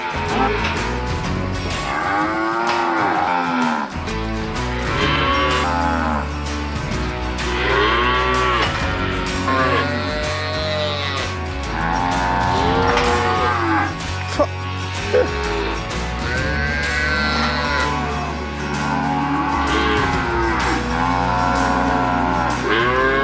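Cattle, cows and calves in a paddock moo repeatedly, long drawn-out calls overlapping from several animals at varying distances, loud and continuous with no talk.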